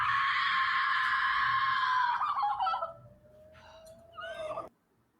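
A woman's long, piercing scream from the horror film X, featuring Jenna Ortega, holds loud and close for about two seconds, then breaks into a strained wavering cry, flares once more, and cuts off abruptly.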